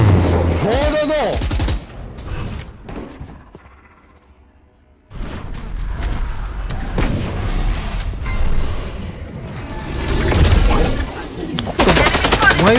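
Gunfire from the Valorant video game plays during a watch party, with rapid bursts and sharp shots in dense clusters broken by a brief lull, loud and close, while voices speak at times.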